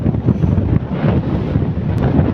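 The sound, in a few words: strong wind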